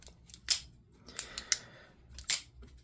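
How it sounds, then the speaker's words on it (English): A toggle detent with a ball-joint-in-cup mechanism on a custom USA-made piece clicks quietly as it shifts back and forth, giving four or five crisp, isolated snaps spaced irregularly over faint background hiss. "It's sort of a ball joint in a cup that sort of shifts back and forth. And that's what the click is, moving."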